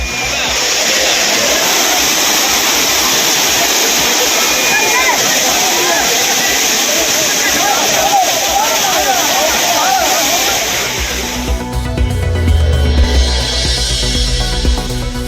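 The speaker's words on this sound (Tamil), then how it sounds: "குற்றால அருவிகளில் ஆர்ப்பரித்து கொட்டும் தண்ணீர்." Water pours down the Courtallam waterfalls as a loud, steady, broad roar that fills most of the clip before the sound changes near the end.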